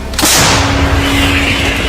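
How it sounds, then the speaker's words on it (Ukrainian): A single loud, close M777 howitzer shot booms with a sharp blast, followed by a long, rumbling reverberation that rolls on afterward. "Постріл!"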